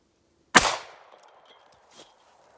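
A single sharp .32 H&R Magnum gunshot, fired with an 85-grain jacketed hollow point into ballistic gel, cracks loudly up close and then rings off in a short decaying echo, followed by a faint knock.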